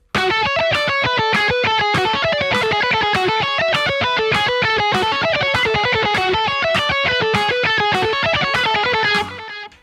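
Distorted electric guitar loops an etude phrase in 5/4, alternating a regular-speed pass with a faster burst version, producing a dense, continuous stream of picked notes that ends sharply after about nine seconds, with no talking.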